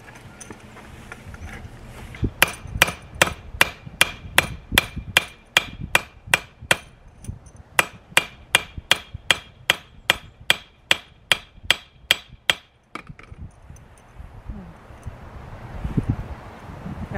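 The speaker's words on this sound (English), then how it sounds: "And then I'm going to hammer that down because it's soft." Sharp, regular hammer blows driving down a soft metal clothesline clamp outdoors, about two dozen evenly spaced strikes close by with a short pause midway, then rustling afterward.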